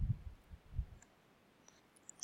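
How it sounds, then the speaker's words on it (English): A computer mouse clicks in a quiet room. A few soft low thumps come first, then sparse, faint single clicks are spaced apart. "Clicking on A to bring it back."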